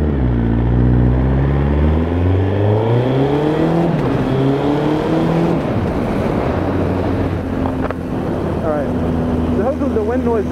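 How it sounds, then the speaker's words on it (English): A Suzuki Hayabusa GSX 1300R motorcycle is ridden up through the gears, its engine whine climbing repeatedly and steadying under heavy wind rush close to the rider. "I'm riding a Suzuki Hayabusa, a GSX 1300R."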